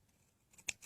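Scissors snipping crochet rug strings, one quick, faint close cut after near silence, followed by a softer second snip.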